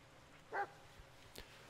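Belette, a dog in the Blair Witch video game, gives one short, faint bark or yip in a quiet scene, followed by a couple of soft clicks.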